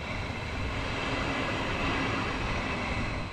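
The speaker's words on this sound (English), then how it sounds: "here comes my train from Belgrade" A Stadler KIS four-car electric multiple unit of Srbija Voz, the Serbian national operator, pulls in on a Belgrade service with a steady, close rumble and rail noise that stays constant throughout, with no talk over it.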